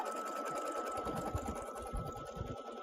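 A sewing machine runs a tacking stitch on a zippered bag, a steady close mechanical whir with rapid needle thumps, continuous and alone.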